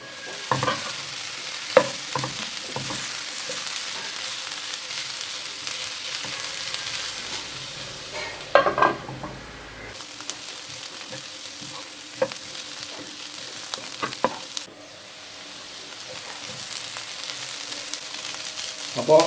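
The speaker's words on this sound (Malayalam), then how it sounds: "ഇടയ്ക്ക് തുറന്നു നോക്കിയിട്ട് നല്ലപോലെ ഇളക്കി കൊടുക്കണം." Bitter gourd cooking in a pan is stirred with a utensil, giving steady scraping and clatter over a soft ongoing sizzle, with a few sharper knocks and a brief pause midway.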